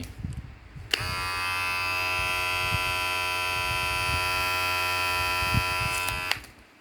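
A steady electric buzzing hum starts abruptly and runs for about five seconds before cutting off, with faint background rustling, as a Bojia cordless children's hair clipper is switched on.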